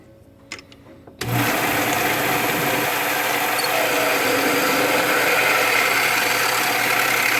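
A Sieg mini lathe cuts through an aluminum cap and then a steel shaft, a steady whirring machine drone that kicks in after a second of near-quiet and runs evenly to the end.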